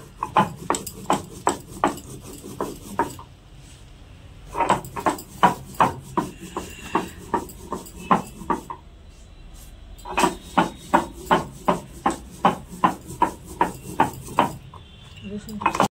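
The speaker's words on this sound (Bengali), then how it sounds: "এদিকে বেটে নিচ্ছে এই যে জিরা আর কাঁচা লঙ্কা" Cumin and green chillies being ground by hand on a grinding stone: close, rhythmic scraping strokes in quick repeated bursts, broken by short pauses.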